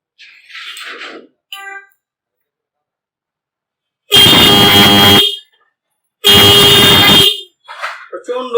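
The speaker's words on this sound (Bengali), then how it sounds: "আমি এর হর্ন সাউন্ড আপনাদেরকে বাজিয়ে শোনাবো এখন।" A 12-volt Denso horn for cars and motorcycles blasts twice, each a loud, sustained, high-pitched tone lasting about a second, with a pause between, and brief faint sounds before and after.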